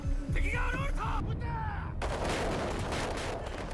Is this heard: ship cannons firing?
yes